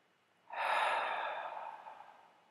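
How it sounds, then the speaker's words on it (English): A single long, audible exhale of breath during a yoga warrior flow, rising suddenly, then slowly trailing off, close and clear in a quiet room. "Breathing."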